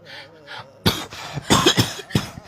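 A burst of several harsh, close coughs in quick succession after a brief quiet voice at the start.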